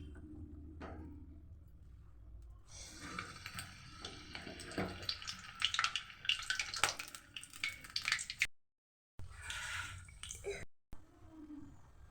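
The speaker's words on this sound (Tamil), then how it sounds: "எண்ணெய் சூடானதும் தண்ணி தொட்டு இனிப்பு போண்டாவை போட்டுடலாம்." Sweet bondas made from idli batter sizzle in hot oil in a kadai, a broad steady crackling hiss that swells louder mid-way, briefly cuts out, then returns.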